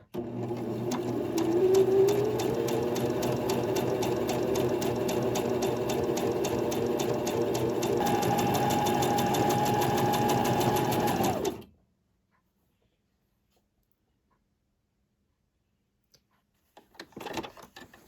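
A sewing machine sews a gathering stitch at stitch length 4 for about eleven seconds with a loud, even motor whir, then stops, followed by silence and a few brief handling clicks.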